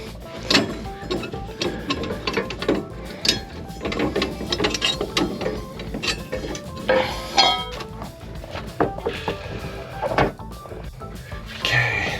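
Ratcheting and metallic clicking while the foot is taken off RV landing gear, a steady run of close, uneven mechanical clicks and clanks with no talking.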